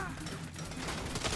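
Rapid bursts of gunfire in the Saints Row video game rattle through dense combat noise, a short loud stretch of overlapping shots with a faint voice underneath.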